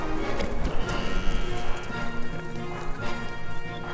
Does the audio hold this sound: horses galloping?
yes